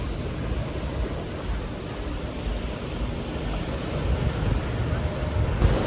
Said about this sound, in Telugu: చూసారా అలలు ఎలా వస్తున్నాయో, బాగుంది కదా.